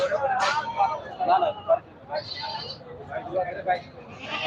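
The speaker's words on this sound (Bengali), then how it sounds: "এখানে অসংখ্য ছাগল আছে দেখেন এক একটা ছাগলের মুখে ব্যান কত সুন্দর" Goats bleat repeatedly at a crowded livestock market in Bhangura, Sharatnagar, with nasal cries rising over someone speaking close by and a busy background.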